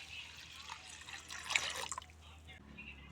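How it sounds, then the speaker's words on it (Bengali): Water is poured over washed moong dal in a pot, making a close, bright trickling and splashing stream that swells for a couple of seconds, then tapers off. "এখন দিয়ে দেব জল।"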